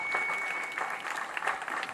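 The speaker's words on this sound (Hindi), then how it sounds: "थारो मन हो तो मेरे लिए भी ताली वाली बजा" An audience at a comedy poetry show at a Ramlila ground in Laxmangarh claps in a brief, dense burst of applause that sustains at a moderate level throughout.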